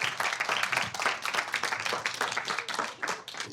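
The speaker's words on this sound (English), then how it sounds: "Everyone give her a round of applause." An audience applauds a volunteer at a college magic show, a dense, steady clapping of many hands that fills the whole stretch with no talk over it.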